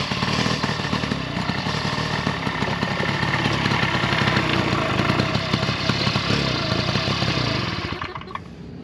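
A vintage motorcycle at a swap meet idles nearby on its own fuel tank. The engine chugs steadily and loudly for about eight seconds, then fades at the end.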